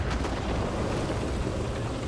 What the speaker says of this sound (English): Oh, it's mortars.